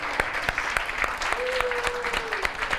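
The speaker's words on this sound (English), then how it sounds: "give each other a thank you and a warm round of applause" Warm round of applause from an audience at the close of a motivational talk, steady clapping with sharp individual claps punctuating it and a brief whoop or vocal tone in the middle.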